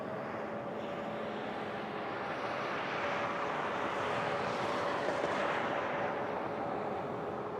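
A jet airplane on the runway at Toronto Pearson airport roars with a steady, broad engine rumble that swells slightly midway, continuous and fairly distant, with no talk.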